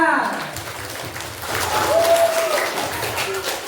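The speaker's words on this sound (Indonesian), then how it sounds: "kita beri tepuk tangan buat Liza." School audience clapping for a contestant at a Ramadan-themed speech contest, a steady burst of applause that grows louder midway, with some voices mixed in.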